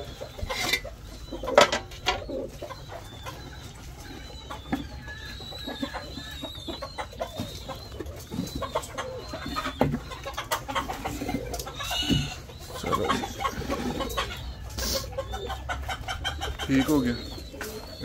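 Chickens clucking and calling close by in a backyard pen shared with pigeons, scattered soft clucks and short squawks over a quiet background, with someone talking intermittently and occasional clatter of handling.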